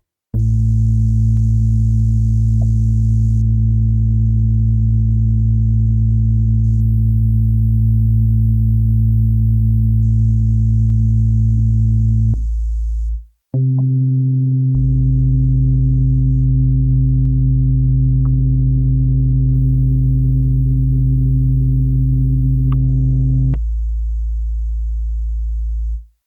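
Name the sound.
two synthesized bass sounds playing together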